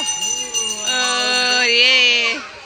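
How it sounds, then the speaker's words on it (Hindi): Temple bell at Khajrana Ganesh temple in Indore struck during aarti, a bright ringing tone with layered overtones that swells and sustains for a couple of seconds, close and clear. "अंजिका घंटी बजाएगी।"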